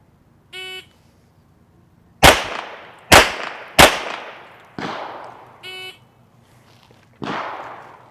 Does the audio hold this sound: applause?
no